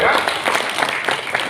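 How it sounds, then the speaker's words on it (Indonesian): Applause from an umrah and hajj tour leader seminar audience in Pekalongan, steady broadband clapping from a room of people lasting about a second and a half, with some speech-like texture mixed in. "Tepuk tangan dulu buat Grasindo ya."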